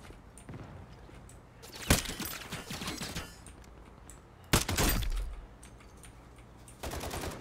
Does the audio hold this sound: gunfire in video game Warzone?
yes